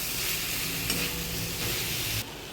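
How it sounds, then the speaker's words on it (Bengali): A spatula scrapes and stirs fried poppy seed curry with ridge gourd in a wok, lifting stuck bits from the bottom; close, steady sizzling with scraping strokes, then the frying level drops suddenly near the end, no voices. "কড়াইতে যেটা নিচে লেগে গেছে এটা ভালো করে খলতি দিয়ে তুলে মিশিয়ে দেবো তরকারির সাথে।"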